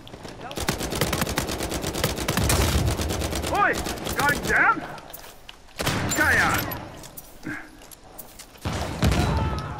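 P90 submachine guns fire in Uncharted 4 multiplayer, with rapid automatic bursts crackling loudly at the start and shorter volleys later. Players talk over the shooting.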